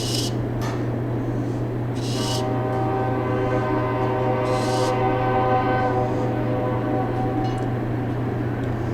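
A train goes by near a dairy farm, heard as a steady low rumble with a sustained tonal hum and layered horn-like tones that stay loud and constant throughout, with a few brief rustling noises early on.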